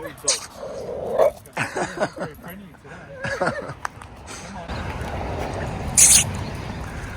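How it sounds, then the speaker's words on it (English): Small dogs barking and yipping during a road bike ride, a few sharp high yaps and whimpers from close by, mixed with riders chatting and the steady rush of wind. "Little doggies. Good day for a walk."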